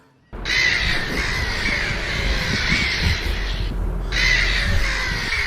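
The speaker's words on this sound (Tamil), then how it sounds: "இத்தனை காக்கா பறந்து வருது?" A cartoon flock of many crows caws loudly and continuously as they fly in, a dense, harsh chorus filling the scene alone, with a brief break before the cawing swells again.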